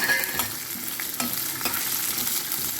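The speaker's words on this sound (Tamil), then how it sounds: "இதில் வெங்காயம் ஆட் பண்ணிக்கிறோம்." Onions frying in sesame oil in a pan for a pirandai chutney, giving a steady close sizzle with several light scraping stirs at irregular intervals and no talking.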